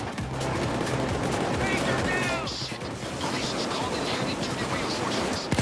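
Dense, continuous gunfire and impacts from the heist video game Payday 2 rattle loudly and steadily, with a player talking over the shooting.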